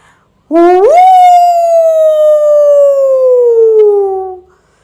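A single long animal howl in the manner of a jackal rises sharply at the start, then holds and slowly falls over about four seconds, loud and close with rich harmonics, before cutting off into silence.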